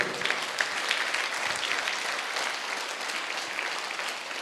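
A large audience at a motivational speech on a school campus claps together, a steady dense patter of many hands lasting several seconds, moderately loud and without voices over it.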